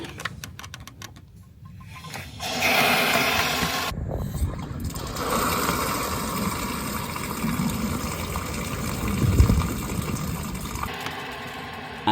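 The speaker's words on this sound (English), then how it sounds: "when I flick this switch, you are going to hear the water drop out below" Clean water drains out from beneath a caravan onto the ground, a steady close rush and splatter that runs on for several seconds after a switch clicks, preceded by rapid ticking.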